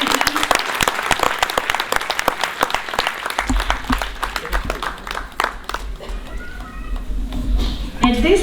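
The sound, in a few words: audience applause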